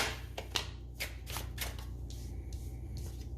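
A deck of tarot cards is shuffled by hand in a series of quick riffling bursts, then several softer, longer sliding shuffles. The sound is close and fairly quiet, with no speech.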